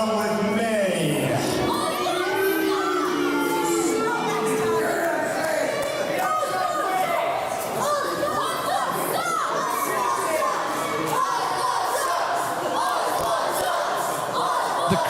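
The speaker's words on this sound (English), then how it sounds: "The crowd very vocal about their opinion on Joey Ozbourne." A large boxing crowd reacting to Joey Ozbourne, a dense wall of shouting, jeering and chanting voices that stays loud and continuous for the whole stretch, with individual yells rising out of the mass.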